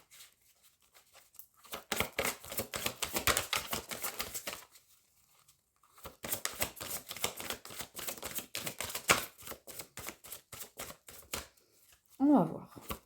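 Tarot cards are shuffled and drawn in two long bursts of dense, rapid riffling and flicking, close and fairly loud, split by a short pause, with a brief voice at the very end.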